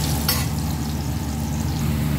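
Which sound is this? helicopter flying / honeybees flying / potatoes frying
potatoes frying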